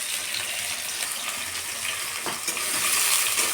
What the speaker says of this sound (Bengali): প্রথমে আমি দিয়ে দিলাম সর্ষে তেল। এখন আমি এর মধ্যে দিয়ে দিচ্ছি পেঁয়াজ কুচি।